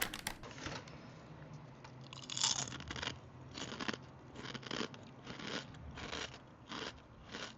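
Crisp crunching of a dry kimchi-pancake-flavored snack being chewed up close, a series of sharp rhythmic bites and crackles repeating steadily, with no talk.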